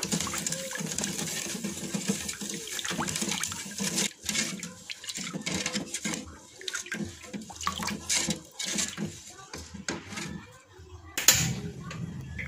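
Water pours steadily into a pan of pudding jelly mix and is stirred in, a continuous close splashing and running-liquid wash with occasional clinks and brief louder bursts.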